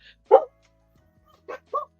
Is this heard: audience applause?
no